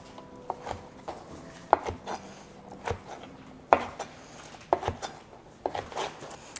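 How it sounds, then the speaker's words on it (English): A kitchen knife slices an Anaheim pepper into small strips on a cutting board, giving a series of soft, close knocks against the board at an irregular, unhurried pace. "And then cut into small strips."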